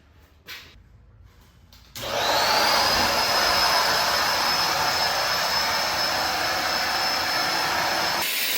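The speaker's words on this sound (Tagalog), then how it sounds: "Magko-vacuum lang ako" After a few soft bumps, a vacuum cleaner switches on with a loud, steady whirring roar that runs continuously until it cuts off abruptly.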